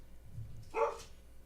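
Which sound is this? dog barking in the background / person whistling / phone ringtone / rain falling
dog barking in the background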